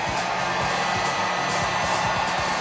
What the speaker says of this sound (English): Put this in place and heat it up with the heat gun.